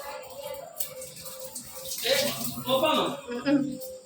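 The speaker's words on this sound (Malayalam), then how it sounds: "ഇതൊക്കെ ഞാൻ ഒന്നും കൂടെ കഴുകുക" Running water splashes from a tap as dishes are rinsed in a kitchen sink, a steady close wash that grows louder midway, with a voice speaking over it.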